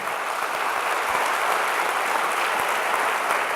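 A church congregation applauds during a Sunday service, a loud, continuous wash of many hands clapping that fills the room with no voice over it.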